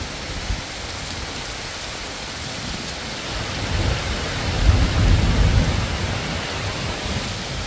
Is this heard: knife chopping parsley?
no